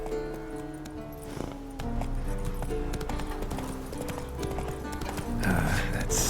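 Horse hooves clip-clop at a gallop in the video game Witcher 3, a steady rhythmic drumming set against an in-game music score, running continuously at moderate loudness.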